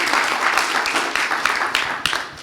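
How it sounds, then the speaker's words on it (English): Audience applause at the close of a team presentation during a final-day coding event, a dense steady wash of many hands clapping, fairly loud and continuous with a few sharper individual claps standing out. "Round of applause."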